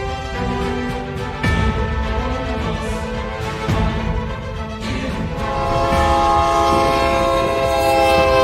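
A train blasts its horn in long, loud, steady tones over a heavy rolling rail rumble as it bears down on a tractor in its path, the horn swelling louder toward the end.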